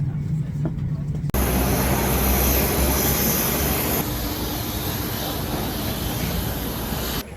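A small propeller commuter plane's engine roars loud and close from inside the cabin, a steady dense drone that starts abruptly after a brief quiet moment and holds unbroken, with a faint voice beneath it at the start.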